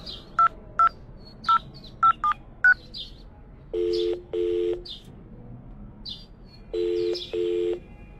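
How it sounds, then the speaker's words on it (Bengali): A telephone keypad beeps out a quick series of single tones, then paired ringback tones pulse on the line, crisp and close in a Bengali radio drama scene. "অনুপম ফোন করলো রাকার শ্বশুর বাড়িতে।"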